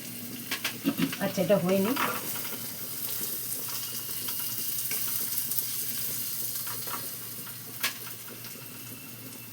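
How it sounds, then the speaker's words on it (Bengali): Whole garlic cloves and chopped onion fry in a pan, a soft continuous sizzle. A brief spoken remark and some stirring clatter come near the start, then the quieter sizzling runs on alone with an occasional clink. "কটা গোটা রসুন দিলাম, কুচনো পেঁয়াজটা দিলাম।"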